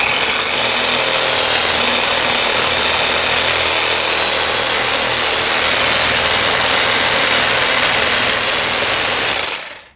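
A reciprocating power tool sands a workpiece in a steady, loud, buzzing drone that holds evenly throughout before cutting off abruptly at the very end, with no talking.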